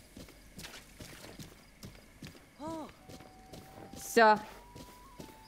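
A horse's hooves clop in a slow walking rhythm in Zelda: Breath of the Wild, soft repeated steps under game sound effects, with brief speech between them.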